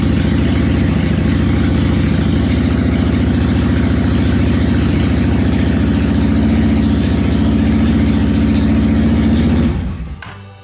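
Honda Shadow motorcycle engine running at idle, a loud, steady, close low rumble with even pulsing that holds for about ten seconds before cutting off abruptly.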